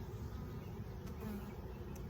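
Honey bees swarm and buzz densely around an open hive during a queen check, a steady close droning hum with no pauses.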